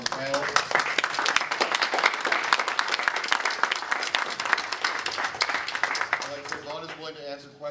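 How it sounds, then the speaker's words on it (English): Audience at a conference panel session applauding with dense, steady clapping for several seconds before it tapers off and a voice resumes speaking. "I think that you all deserve a round of applause"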